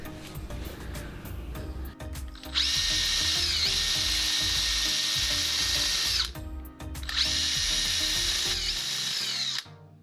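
An impact driver fitted with a wire brush scrubs rust off a lower control arm bolt on a Suzuki Every DA64V van, two loud, close, whirring bursts of several seconds each with clattering between them.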